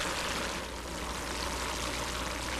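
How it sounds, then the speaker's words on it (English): Steady rushing water flows along a riverbed, a continuous broadband stream with no pauses, moderately loud and alone. "The water is eroding the Earth"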